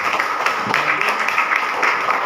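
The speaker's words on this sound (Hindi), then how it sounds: "ऐसे प्लेटफॉर्म के लिए एक बार जोरदार ताली बजाएं।" Seminar audience delivers steady, dense applause close at hand, a continuous wash of many hands clapping at even strength throughout.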